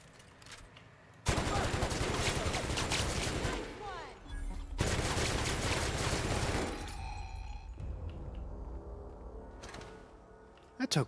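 Heavy gunfire in The Outer Worlds erupts suddenly in two long, loud sustained bursts of rapid shots separated by a brief pause, trailing off into quieter game sounds with a final sharp shot at the end.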